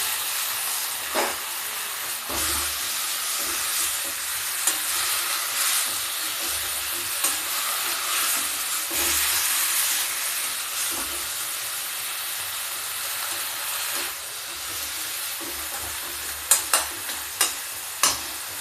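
Soya chunks fried in a pan sizzle and hiss loudly while being tossed and stirred, with periodic scraping strokes and a few sharp clinks of the spoon toward the end.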